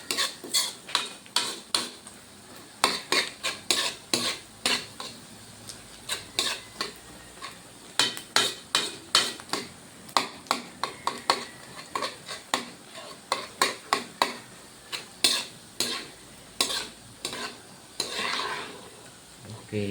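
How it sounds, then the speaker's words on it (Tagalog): A utensil scrapes and clinks against a pot as misua noodles with egg are stirred, in a run of sharp irregular knocks with brief pauses and a soft sizzle underneath. "May first batch at saka second batch para mahalo natin ng mabuti ang itlog"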